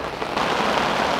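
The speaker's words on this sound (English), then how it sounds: "as you can see the weather is atrocious. It's raining cats and dogs." Heavy rain pours down on a stretch of the River Trent during a barbel fishing session, a dense, continuous hiss of drops hitting water and surfaces, loud and close with no voices.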